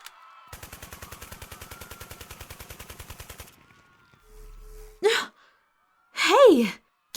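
A rapid burst of automatic gunfire rattles for about three seconds in a staged audio drama, followed by a quiet mechanical hum and two loud breathy vocal outbursts.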